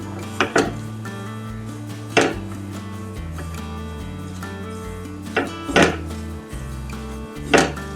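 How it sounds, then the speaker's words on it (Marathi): Rava and coconut being roasted in ghee in a pan over a low flame, a steady background with a handful of sharp metallic scrapes and clinks from a spoon against the pan, no talking. "बारीक गॅसवरती परत छान असं भाजून घेऊया आपण."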